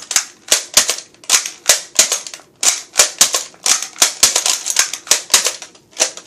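A six-shot toy gun fires in a rapid string of sharp, loud cracks, close up and irregularly spaced, with no voices.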